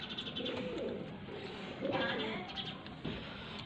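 Breeding pigeons at a loft in Faisalabad coo softly in low, rolling phrases, faint and close, partly under someone talking.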